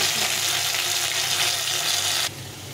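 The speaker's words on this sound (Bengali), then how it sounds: "আলু আর গাঁঠি কচুগুলো ভেজে নেব, দুটো একসঙ্গে ভেজে নেব।" Chunks of potato and taro fry together in hot oil with a loud, steady, close sizzle. The sizzle drops suddenly to a softer hiss near the end.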